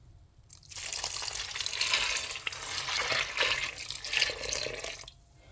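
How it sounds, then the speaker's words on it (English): About five cups of beef broth poured into a crock pot of chili with black beans, a steady splashing liquid stream for several seconds, close and fairly quiet, stopping abruptly. "Next, I'm going to add about 5 cups of beef broth."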